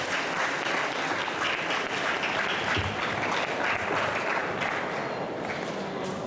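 An audience at a secondary school ceremony launching Malaysia's 62nd Independence Month in 2019 claps without a break, a dense, even wash of applause filling the hall from start to finish.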